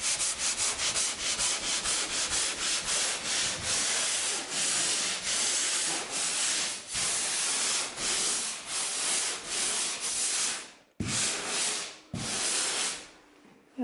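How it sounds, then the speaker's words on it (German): Rhythmic back-and-forth sanding strokes rasp across hardened wall filler, steady and close, pausing briefly near the end before resuming. "werde jetzt erstmal schön schleifen"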